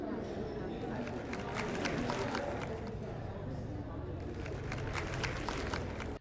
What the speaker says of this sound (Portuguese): Toda hora a sala dela tem muito barulho, parecendo muita gente falando e do nada alguns aplausos.